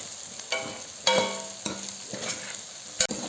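Masala being stirred into potatoes frying in a pan, with a few scraping strokes of the spoon over a soft sizzle, close and fairly quiet.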